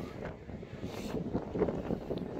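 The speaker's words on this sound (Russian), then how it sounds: "А волна, конечно, большая, захлестывает костюм" Big sea waves and strong wind on the Barents Sea, with rough gusty microphone buffeting and sloshing water close by during net fishing.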